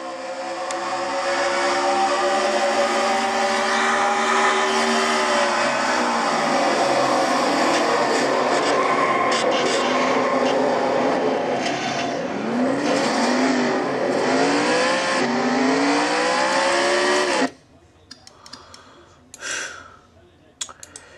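Onboard a race car at the Iowa short track in a FedEx Nationwide Series event, the engine roars loud and close for about seventeen seconds, its pitch rising and falling through shifts, then cuts abruptly to scattered faint knocks and clatter.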